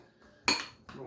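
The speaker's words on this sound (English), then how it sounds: "And I'm going to put it into my pot here and give it a little bit of a cooking." Lemon peel tipped into a cooking pot while making an avocado sauce gives one sharp, close clatter of metal and crockery, then a second softer knock a moment later.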